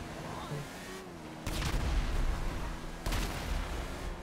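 Explosions and gunfire from the video game GTA V pound in two heavy bursts over a dense, rumbling wash of battle noise, loud and close.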